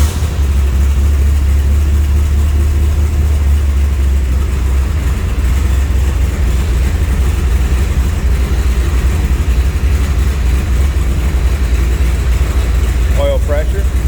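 A 1967 AC Cobra roadster replica with EFI and push-button start runs with a loud, steady, deep engine rumble throughout, the idle holding close and constant, with a voice talking over it.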